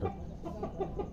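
Aseel Parrot chickens clucking outdoors, a short run of soft, quick clucks from nearby birds, faint and alone.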